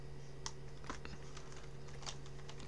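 Quick, light keystrokes on a computer keyboard tap out a short word in irregular bursts, faint and close, over a low steady electrical hum.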